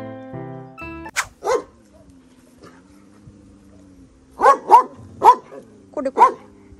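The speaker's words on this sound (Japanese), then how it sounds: "これだけのワンちゃんに吠えられてるのに" Several dogs bark in short bursts at a pig, a brief cluster early and a rapid string of barks later, with a low hum between them.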